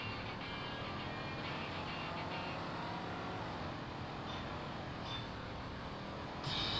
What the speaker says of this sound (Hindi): और तेज़ चलाएं गाड़ी।